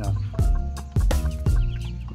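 Backyard egg-laying chickens cluck close by in short repeated bursts, with a steady low hum beneath and several abrupt louder clucks, as one hen is laying an egg.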